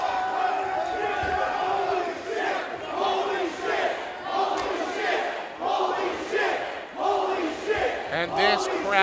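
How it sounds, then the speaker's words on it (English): A wrestling crowd at Harpo's roars and yells steadily for the whole stretch, a dense, loud wall of voices swelling in bursts as the match ends in chairs. "And this crowd at Harpo's absolutely electric"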